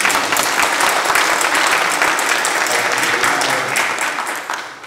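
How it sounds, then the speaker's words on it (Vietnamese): Wedding guests in a reception hall give a loud round of applause, with dense clapping from a crowd close by that holds steady and then fades out at the end. "Rồi cho người ở Úc một tràng pháo tay."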